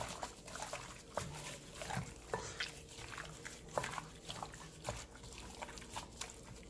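Faint wet squelching and sloshing as chicken is mixed with a jerk marinade and olive oil by hand or spoon, with soft irregular clicks and slaps, close and quiet.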